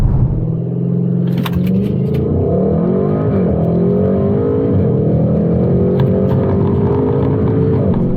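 A 2021 Audi RS6 Avant fitted with an IE carbon fiber intake revs loud and close, its deep engine roar climbing and falling in repeated pulls with a steady low rumble underneath.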